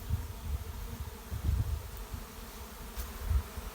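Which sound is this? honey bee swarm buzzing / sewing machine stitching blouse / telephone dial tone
honey bee swarm buzzing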